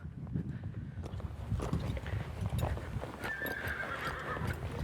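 A horse ridden in a training session for the three-barrels event moves along with soft, steady hoofbeats and rustling, heard at moderate distance with a brief whinny-like tone partway through and no clear talk.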